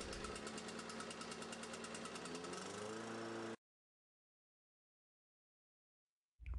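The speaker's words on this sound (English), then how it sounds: "Test run the engine and you're done." Small engine test run after an oil change, chugging loudly and steadily at idle for a few seconds before cutting off into silence, then briefly restarting at the very end.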